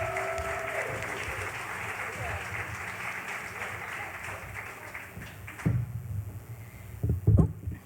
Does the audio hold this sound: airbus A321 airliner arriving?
no